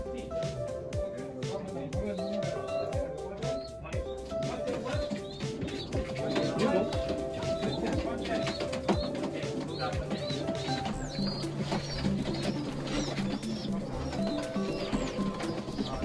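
Pigeons cooing at a pigeon club auction, soft repeated coos and chirps steady throughout amid a busy indoor crowd, with people talking and an auctioneer calling bids over the birds.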